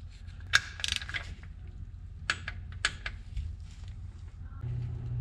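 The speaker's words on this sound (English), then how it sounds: "we are going to reinstall our lower drain plug" A ratchet reinstalling the lower drain plug on a 1993–2002 Mazda RX-7 rear differential, with sharp quick bursts of clicking pawl strokes and pauses between, close and fairly quiet.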